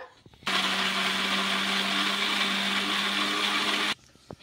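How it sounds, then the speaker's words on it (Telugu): An electric mixer grinder whirs at steady high speed, grinding green gram, fresh coconut and green chilies for about three and a half seconds, loud and close, then stops abruptly. "పచ్చిమిర్చి కూడా వేసుకొని మిక్సీ పట్టేసుకుందాం"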